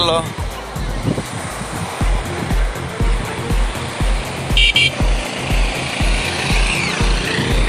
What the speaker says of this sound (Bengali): কি সুন্দর ঢেউয়ের শব্দ